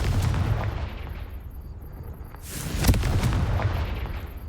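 A Confringo fire-blast spell explodes in the game Hogwarts Legacy, a loud booming blast with a sharp crack at its peak over a continuous rumbling background.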